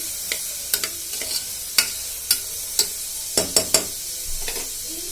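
Onions and sweetcorn sizzle steadily in a pan while a utensil stirs them, giving a string of sharp scraping clacks at irregular intervals over the constant frying hiss, close up and with no talking.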